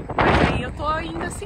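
Strong wind buffeting a microphone while riding an e-scooter, a loud rumbling roar heard under a person talking close to the mic.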